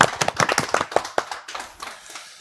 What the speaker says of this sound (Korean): 역시 박수 쳐야죠. 박수 주시죠.